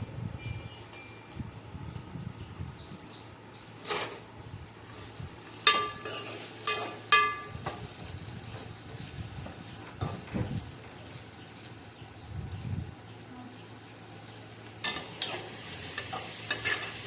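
Green chillies and onions frying in hot oil in a home kitchen, a continuous near sizzle broken by scraping stirs and occasional clinks of a utensil against the pan, no speech.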